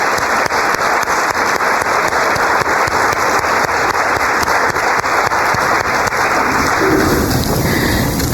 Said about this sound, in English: Please join me in a round of applause for our Faculty Award winners.